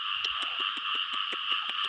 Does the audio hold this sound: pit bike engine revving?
no